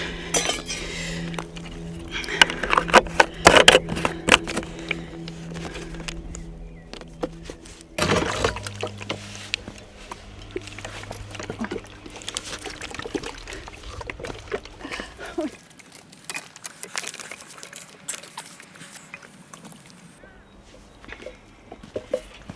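Water is poured into a 20-liter container until it is full, with clinking and sloshing, a gurgling pour and knocks of handling that come and go over a stretch of quieter pauses.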